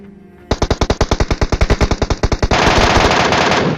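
Rapid automatic gunfire rattles out in a fast, loud burst of about two dozen evenly spaced shots in a video game firefight, ending in a rushing wash of noise.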